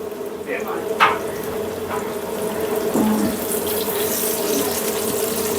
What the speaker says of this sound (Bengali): এই যে বেগুনগুলো মেখে রাখছিলাম এখন ভেজে নিচ্ছি